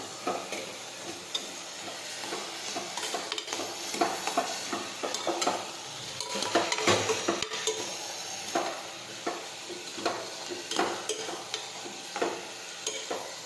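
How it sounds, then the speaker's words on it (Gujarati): Cowpea curry (chori nu shaak) with sugar and salt being stirred in a pressure cooker pan; a soft sizzle runs under repeated scraping and clinking of a spoon against metal, with no talk. "હવે આપણે સાતળી લઈશું."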